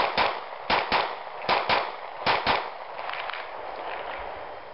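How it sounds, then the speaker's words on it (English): Handgun shots fired at an outdoor shooting range, six sharp cracks in three quick pairs over the first few seconds, fairly loud, followed by quiet range ambience. "This one's got 15 rounds in it, so I can do a lot more shooting."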